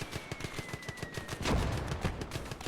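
Artillery fire in a strategy video game battle: rapid rattling bursts of gunfire with a heavier booming impact midway, dense and continuous.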